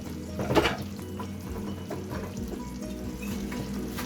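A tablespoon of apple cider vinegar hits a hot pan of steak and vegetables, with a sharp hissing splash early on that settles into a steady sizzle and light bubbling.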